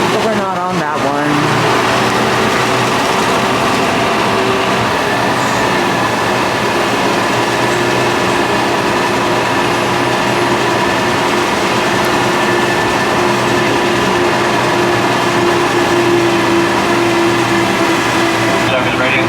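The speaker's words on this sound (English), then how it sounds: "We're taking the tram." A Disneyland tram ride hums and rumbles steadily throughout, with a motor drone and rolling noise close by while people talk over it.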